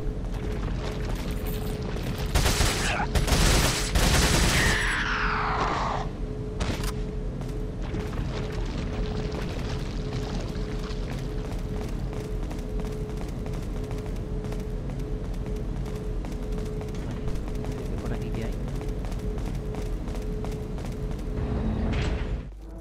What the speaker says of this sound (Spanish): vamos a utilizar la, TMP. Y gastamos esa munición que tenemos ahí.